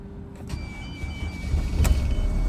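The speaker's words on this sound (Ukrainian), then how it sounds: "Пробуємо зараз запустити на холодно." A 2014 Mercedes Viano 3.0 van engine cranks and turns over on a cold start, with a whirring starter and then a rising low rumble as it catches and idles.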